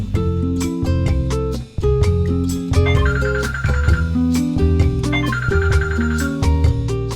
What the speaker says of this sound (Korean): 전화벨이나 알람이 울리면 구름이가 듣지 못하는 서연 씨에게 신호를 보냅니다.